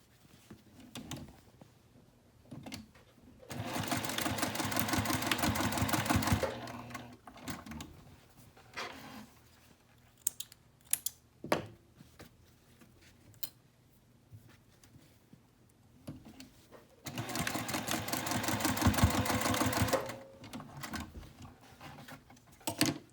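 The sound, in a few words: sewing machine stitching darts on fabric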